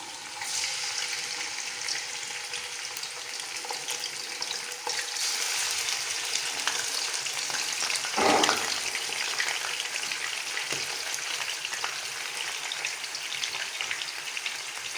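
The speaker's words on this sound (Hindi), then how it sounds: "जिसमें हमने प्याज तली थी उसी ऑयल में हम चिकन को फ्राई करेंगे।" Chicken frying for a dagi korma in oil already used to fry onions, a dense, steady crackling sizzle up close with one brief louder clatter midway, no voices.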